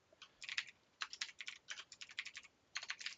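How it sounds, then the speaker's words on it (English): Quick bursts of clicky keystrokes on a computer keyboard, quiet and close, broken by short pauses between typed words. "going to type all of our stuff in here"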